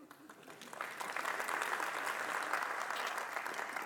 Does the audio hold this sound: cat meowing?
no